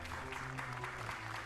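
Lively crowd applauding at the Paris 2022 archery World Cup stage 3 recurve team finals in France, a steady wash of clapping filling the moment at moderate volume.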